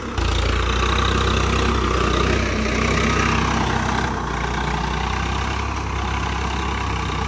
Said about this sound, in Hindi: बड़ा साढ़े सात फिट का कल्टीवेटर कितनी आसानी से चला पा रहा है ये ट्रैक्टर